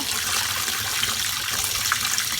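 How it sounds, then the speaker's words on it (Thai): Salted mackerel being washed in a basin of water makes steady sloshing and trickling up close, a continuous watery rush with small splashes and no pauses. "ใส่กระมังล้างน้ำให้น้ำ ให้น้ำเป็นใสๆเลยนะคะ"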